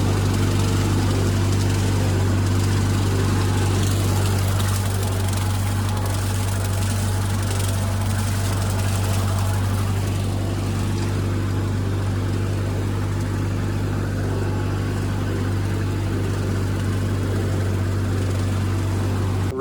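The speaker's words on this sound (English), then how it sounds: "So I got a Ford 3000, I want to say, 1972 gas over there with a 6-foot brush hog." A 1972 Ford 3000 gasoline tractor with a 6-foot brush hog runs steadily at idle with a low, continuous drone that holds at an even level throughout, and no one speaks.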